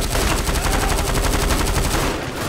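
Sustained rapid automatic gunfire from GTA V plays loud and dense, a continuous rattling stream of shots with no speech.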